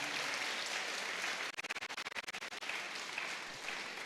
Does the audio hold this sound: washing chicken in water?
no